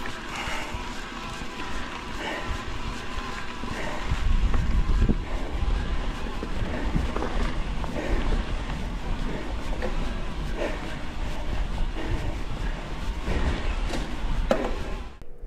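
Specialized Levo SL e-bike with a Mahle 2.2 motor running on a ride, a continuous whir mixed with wind and rolling noise at fairly steady loudness, no talk.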